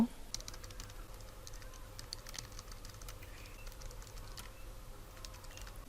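Quick, light keystrokes on a computer keyboard as text is typed into a word-processing document, irregular clusters of faint clicks close by over a quiet room hum.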